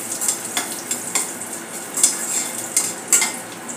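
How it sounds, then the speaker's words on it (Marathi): Raisins fry in oil over a low flame for falahari chivda, a steady soft sizzle with a hissy crackle and occasional stirring clinks against the pan, close and continuous with no talking. "आता यात तळणार आहोत मनुके"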